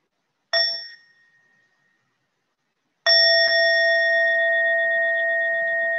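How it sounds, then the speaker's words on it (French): Meditation bell invited to begin a mindfulness practice: one clear ring that fades over about a second, then a second strike whose bright, steady tone sustains to the end. "Je vais moi aussi inviter un son de cloche pour commencer cette pratique."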